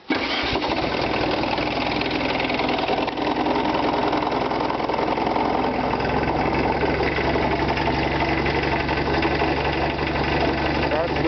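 A homemade 4x4 tractor engine starts and then settles into a steady, loud, rumbling idle that runs continuously to the end, with a voice speaking over it.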